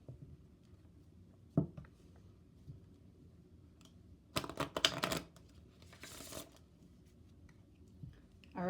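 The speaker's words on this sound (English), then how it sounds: "so let's do another shuffle." Tarot cards being shuffled, a quiet soft rustle and a brief dense burst of riffling and flicking near the middle, with a few isolated taps around it.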